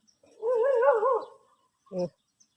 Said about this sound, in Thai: เสียงพี่หมาเห่า